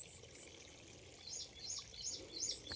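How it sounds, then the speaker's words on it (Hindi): Water flowing freely out of a farm tubewell with no motor running, a faint steady pouring and trickling outdoors, with bird chirps rising in the background. "ये देखो कितना पानी बह रहा है"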